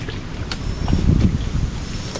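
Gusty wind buffets the microphone outdoors, a low steady rumble with brief swells, likely near open water.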